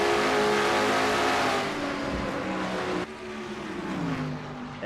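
A race car in a NASCAR-style racing video game drives laps at Rockingham, its engine droning loud and close as the pitch rises and falls through the turns, with no voices.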